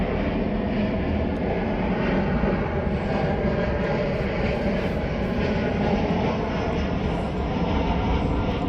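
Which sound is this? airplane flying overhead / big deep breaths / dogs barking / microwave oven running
airplane flying overhead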